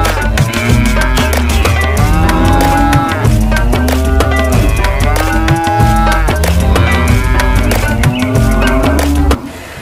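A colorful toy cow, switched on, plays loud continuous electronic music with mooing sounds and a steady beat, running without pause for about ten seconds before cutting off.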